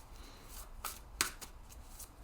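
Tarot cards being shuffled and pulled, a few soft riffles and slaps of the deck heard close and fairly quiet, with short gaps between them.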